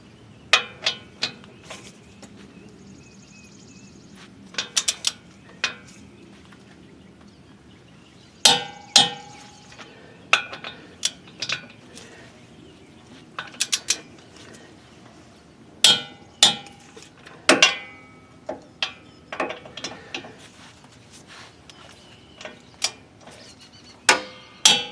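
Sharp metallic clicks and clanks of a torque wrench tightening wheel hub bolts on a 2007 Dodge Durango during a front hub replacement, coming as irregular bursts of close, distinct ticks with quiet gaps between them.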